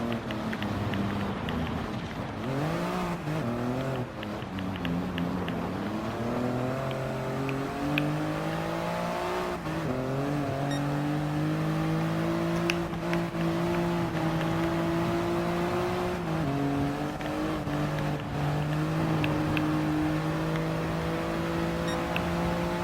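A Toyota GR Yaris RZ First Edition with its G16E-GTS engine races in Gran Turismo Sport, the engine droning loudly and steadily, pitch climbing and dropping through gear shifts and revs along the lap.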